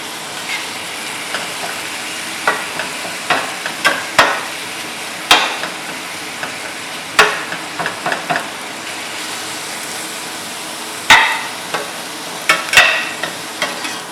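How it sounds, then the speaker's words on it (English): Pork mince and onions frying in a pan, a steady sizzle with repeated clinks and scrapes of a utensil stirring, close and fairly loud with no talking. "While the pork mince is browning here, I'm going to add the onions"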